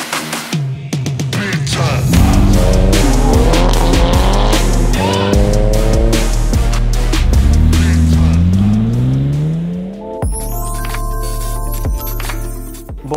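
Drift cars on a racing circuit fill the air with loud, continuous engine roar and rising revs. Long tire squeals run under it throughout, and one car's pitch climbs sharply near the end.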